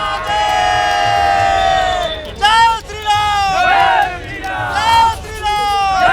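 A dense crowd outside Kaal Bhairav temple in Kashi awaiting PM Modi on nomination day chants and cheers loudly in repeated rising bursts, close by, with shouts and babble throughout.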